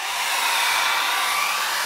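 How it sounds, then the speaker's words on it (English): A hairdryer blows steadily at close range over a wet acrylic and ink painting, a loud continuous rushing whoosh with a faint low pulsing underneath and no talk. "what you can do as well, you can use a hairdryer just to"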